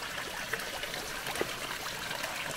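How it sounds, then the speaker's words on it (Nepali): Water flows steadily from a spring spout, a soft, continuous trickling and splashing with faint irregular drips, heard alone at low level. "यत्रो धारा बगिरहेको"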